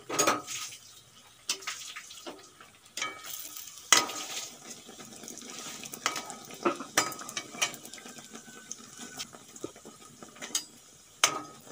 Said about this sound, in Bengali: দেখুন তেল গরম হতে বসিয়ে দিয়েছি, আর একটা প্লেট বসিয়ে দিলাম। পিঠেগুলো এখন আমি ভেজে নেব।